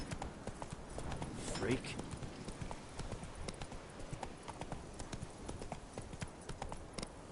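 Hooves of Roach, a horse in The Witcher, clip-clop at a gallop in a steady rhythm throughout, loud and close, with a man's brief spoken word over them.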